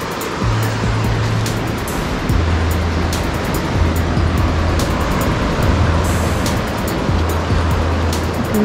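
Sea waves wash steadily onto the beach at Hilton Seychelles Labriz on Silhouette Island, a loud, continuous surf roar with a persistent low hum underneath and small clicking noises on top.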